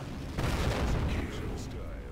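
A heavy cannon shot rings out in World of Tanks from a KV-5 Soviet tier 8 heavy tank: one loud, booming blast with a rolling tail. It arrives under game audio and other sounds.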